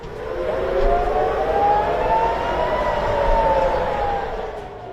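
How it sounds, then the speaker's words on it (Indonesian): A rising and falling air-defense siren wails steadily and loudly over Tel Aviv, its pitch sweeping slowly up and down with no voices present. "sirine sistem pertahanan udara Israel kembali menggema di Tel Aviv"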